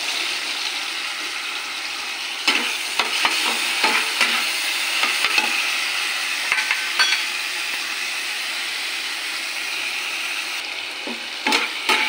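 Prawns sizzle in a pan with potato, a steady close frying hiss broken by repeated spatula scrapes and stirring knocks, with no talking.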